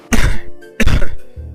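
A cartoon man named Pavan coughs twice, two short, loud, close throat-clearing coughs separated by a brief pause.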